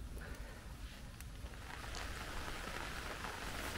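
Steady rain falls in a forest during a September mushroom hunt, a soft continuous hiss and patter on leaves, faint and even throughout with no one speaking.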